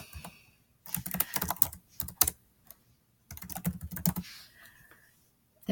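Bursts of quick, close keystrokes on a computer keyboard, two clusters of rapid clicking separated by a brief quiet gap.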